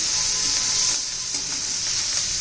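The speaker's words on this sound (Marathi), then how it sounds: "चांगलं असं परतून मिळतं मिरचीचा लसणाचा कच्चेपणा गेला पाहिजे" Green chillies and garlic sautéing in a pan give a loud, continuous sizzle with faint stirring scrapes throughout, close and steady with no voices.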